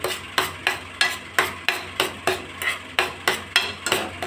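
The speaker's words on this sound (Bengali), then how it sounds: "মাঝে মাঝে এইটাও আবার নাড়াচাড়া করে দিতে হবে।" A spoon stirs mango semolina payesh in a pot, giving about nine evenly spaced scraping strokes roughly twice a second, close and distinct, with no talking.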